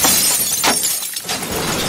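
A metal talking head is smashed, its metal and glass pieces shattering and scattering onto a cabinet and floor in one loud, close burst of crashing fragments.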